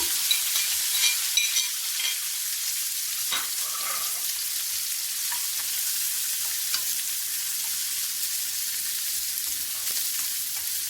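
Chopped green chilies fry in hot oil in a pan while being stirred, a steady close sizzle with soft scraping throughout and no talking.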